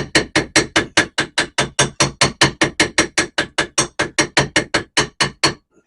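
Lead flashing being hammered thin for roof work, a steady run of about twenty-five sharp metallic blows, close and loud, evenly spaced at roughly four per second, with no talking.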